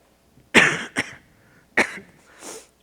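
Several coughs into a lapel microphone on a stage, two close together then a third, loud and close with a fainter trailing cough, no talking.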